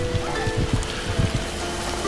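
Steady falling rain patters continuously, a dense, even hiss of drops close by, with no voices.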